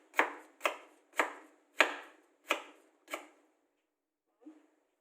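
Ginger is chopped into small pieces for Khao Soi paste in a cooking class, six sharp, evenly spaced knife blows on a board followed by a fainter tap.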